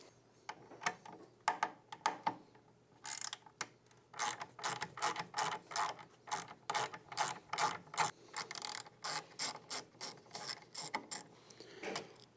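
A ratchet loosens the lower Torx T25 bolts on the tail light of a 2024-or-later touring motorcycle: close, crisp clicking in quick rhythmic bursts that grows busier and steadier after a few sparse strokes.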